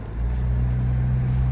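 A 2021 Isuzu D-Max pickup with an automatic gearbox accelerates, its engine giving a steady, deep, close rumble that swells in at the start and holds level, with no distinct gear change standing out.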